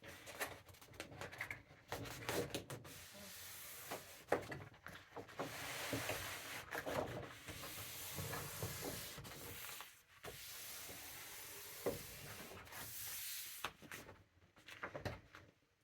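A paper pattern envelope being creased by hand, soft rubbing and sliding strokes in irregular bursts, faint and close, with no talk.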